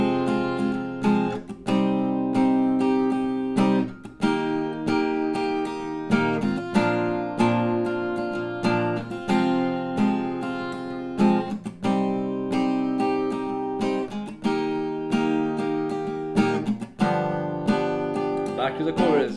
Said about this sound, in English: So the bridge sounds like this.